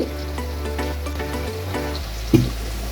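Cleaned karandi dried shrimp fry in a pan with a steady close sizzle and a few light pops, no talking.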